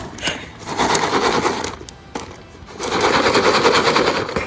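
Popcorn pops in a pan held over an outdoor campfire, a rapid crackling burst of many small pops in two dense runs with a brief lull between, loud and close.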